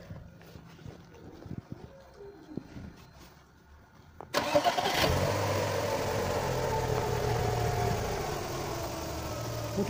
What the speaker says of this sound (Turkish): Su ilave ediyorken şimdi motoru çalıştıracağım ve çalışırken su ilave edeceğim.